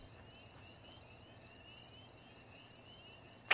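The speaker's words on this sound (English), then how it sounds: "All the frogs and crickets and insects" Crickets, frogs and insects in the Fallout 76 video game chirp in a steady, pulsing night chorus, fairly soft and continuous, ending in a brief sharp click.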